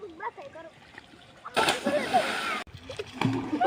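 Splashing water in a village pond as someone swims, loud bursts of sloshing in the middle and end with voices talking and calling out around it.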